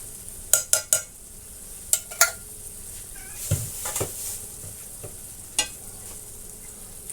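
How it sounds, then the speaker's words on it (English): Hamburger meat and diced tomatoes being stirred in a pan, giving a soft, low sizzle with a few sharp utensil clicks and scrapes against the pan, close but quiet, with no talk. "Now I'm just going to mix in my meat, and this has got to cook for a while"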